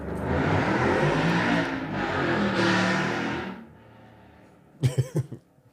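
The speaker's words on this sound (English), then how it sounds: "That's a motorcycle." A motorcycle passes outside, a loud, rising and falling engine rush for about three seconds that then fades out, followed by a brief nearby cough.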